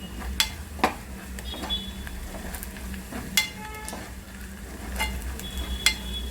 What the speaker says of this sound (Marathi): पूर्ण मसाला भाजला पाहिजे